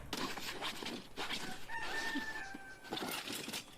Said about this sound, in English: The only problem with roosters is that they go